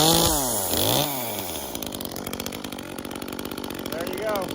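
A chainsaw engine starts and roars up, then settles into a steady, fast, rattling idle, close and loud, with a voice speaking over the start.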